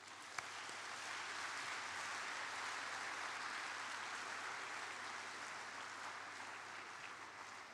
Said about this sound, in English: So can all the students here just give the organizers a round of applause?